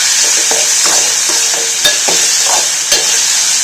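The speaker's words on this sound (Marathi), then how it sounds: "इथे टोमॅटो आणि कांदा ब्राऊन गोल्डन होऊन द्यायचा आहे" Tomatoes and onion fry in a pan with a steady, close sizzle, broken by a few light clicks and scrapes of stirring, with no talking.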